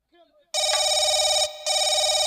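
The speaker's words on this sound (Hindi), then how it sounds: "तेरे बाप का फोन आ रहा है, मैं कहता हूँ फोन उठा" A telephone rings loudly and continuously in a tense police-station scene, its bright electronic trill steady apart from one short break, after a brief moment of muffled talk at the start.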